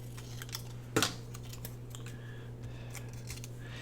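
Scissors snip through paper scraps for a scrapbook banner: one sharp, close snip stands out, with several fainter clicks and rustles of paper around it over a low background hum.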